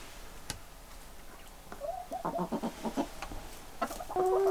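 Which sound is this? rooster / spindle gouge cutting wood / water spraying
rooster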